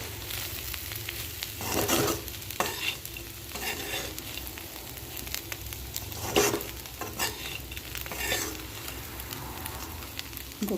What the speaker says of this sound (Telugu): కొద్దిసేపు ఫ్రై అవ్వాలి.